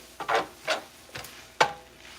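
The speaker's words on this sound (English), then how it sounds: "We're going to give it a nice stir." A utensil scrapes and swirls through pasta in a cooking pot in four separate strokes, close and fairly quiet, with no talking.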